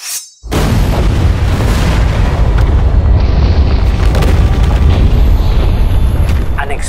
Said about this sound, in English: an explosion would occur on the eastern side from a new eruptive vent at a depth of about 850 meters